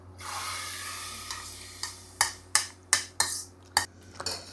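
Several sharp, splashy clunks in quick succession as pieces of beef drop into a pot of boiling water, over a low steady hum.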